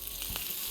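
Bubble and squeak potato mash sizzles in a frying pan, a close, steady hiss with a couple of brief crackles over under a second.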